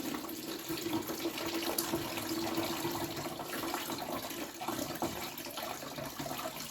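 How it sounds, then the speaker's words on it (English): Homemade pineapple tea is poured slowly through a strainer, a steady close splashing trickle of liquid that runs without pause throughout. "Just pour it in there slowly. We're going to strain the pineapple tea."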